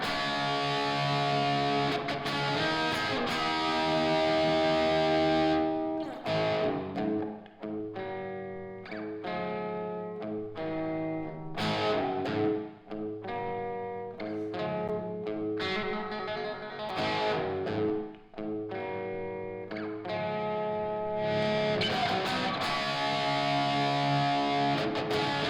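Guitar played through a Multiplexer effects unit, testing its reverb settings: sustained distorted chords and notes with chorus and echo wash, loud and continuous, pausing briefly between phrases with no talking.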